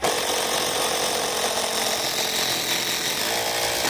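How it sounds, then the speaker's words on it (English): A power driver drives 150mm bugle head screws down through the top into Hebel block for a BBQ bench, giving a loud, steady, close whirring grind for about four seconds before it stops. "When you're screwing the top down, use 150mm bugle head screws."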